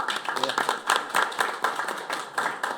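Audience applause at a Korean policy forum on digital national land, a steady dense patter of clapping with a faint background voice now and then.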